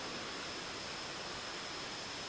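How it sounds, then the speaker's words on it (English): A waterfall gives a steady, even roar of falling water, a continuous hiss with no breaks, heard at a moderate distance without voices. "So I'm just at a waterfall with butterflies on my hand."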